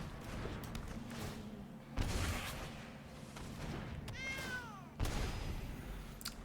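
A cat meows in the MTG Arena digital card game, a single rising-then-falling cry around the middle, set against busy game sound effects and a couple of sharp impact hits.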